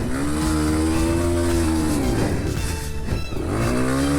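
A cheap 5-horsepower dirt bike engine runs loud and close, its buzzing note rising and falling as the throttle is worked, briefly dipping before revving back up.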